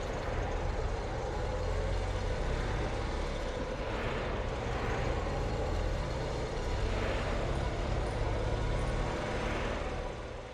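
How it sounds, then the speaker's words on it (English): Highway traffic noise used as a sound effect in a tabletop role-playing game, a continuous loud roar of passing vehicles with slow swells like trucks going by, and no voices. "Lucky shouts over the noise of the highway."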